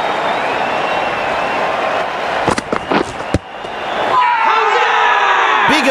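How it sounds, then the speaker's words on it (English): Stadium crowd in the Cricket 19 video game during a T20 World Cup India vs Australia practice match, a loud sustained roar of cheering with brief whistles and sharp bursts, with commentary voices over it. "The crowd on their feet."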